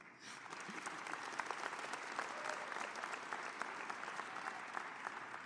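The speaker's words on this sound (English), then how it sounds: "Fellow graduates, I applaud you all. You can give yourselves a hand." Graduates at the Hult Boston undergraduate graduation ceremony for the Class of 2023 give themselves a hand, a distant, dense wash of applause from a large crowd that continues evenly throughout.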